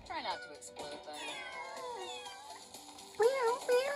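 Cartoon cat meows sound in the Exploding Kittens pinball table, a series of bright, rising and falling cries over busy game music, with a louder pair of meows near the end.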